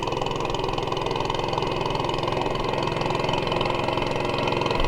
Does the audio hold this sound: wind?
no